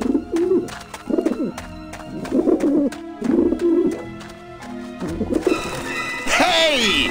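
Pigeons cooing in Grim Fandango Remastered, repeated throaty coos in a loose rhythm, close and clear, ending with a brief burst of higher bird calls and flutter.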